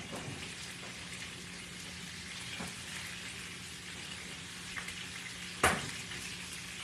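Fish fries in hot grease with a faint, even crackling sizzle throughout, broken by a few soft pops and one sharper crackle near the end, heard alone at low level.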